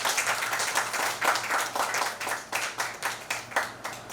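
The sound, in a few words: audience applause for actress Divya Dutta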